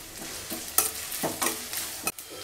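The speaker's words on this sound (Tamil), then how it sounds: "இது கூடவே இஞ்சி பூண்டு பல் பச்சை மிளகாய் சேர்த்து வதக்கிடலாம்" Ginger, garlic and green chillies sauté in a pan for poori potato masala, giving a short burst of close frying sizzle broken by several brisk stirring scrapes, with no voices.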